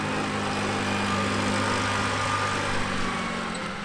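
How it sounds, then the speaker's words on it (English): A golf cart engine drones steadily while riding, a constant mid-level hum with no breaks, close and fairly loud throughout. "And I am riding on the golf cart."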